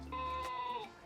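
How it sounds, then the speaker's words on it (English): The sheep-bleat bell sound of a Tarran T1 Pro cargo bike, one brief electronic bleat heard close and quiet, with no voices. "Sheep."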